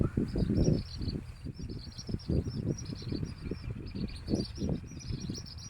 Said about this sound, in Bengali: দেখো পাখির ডাকটা একটু খেয়াল করে শোনো